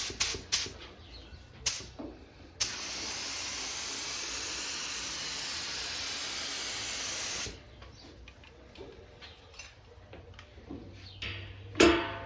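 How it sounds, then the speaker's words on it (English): Activator sprays from an aerosol can in one steady, loud hiss lasting about five seconds, with quiet handling clicks and knocks before and after. "Oh, I need to spray it with the activator."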